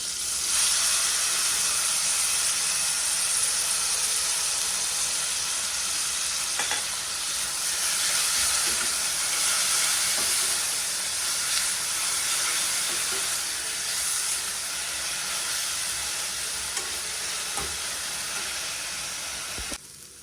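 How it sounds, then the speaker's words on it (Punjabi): Chopped onion and long-cut green chillies fry in a hot pan for an aloo baingan sabzi, a loud, continuous sizzle and hiss that holds steady for about twenty seconds, with a few faint stirring clicks. "ਇਹ ਪਾਵਾਂਗੇ ਇਹ ਅਸੀਂ ਪਿਆਜ਼ ਚੌਪ ਕਰਕੇ ਰੱਖੇ ਸੀ"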